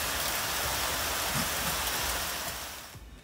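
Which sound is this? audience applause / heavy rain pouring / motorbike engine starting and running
heavy rain pouring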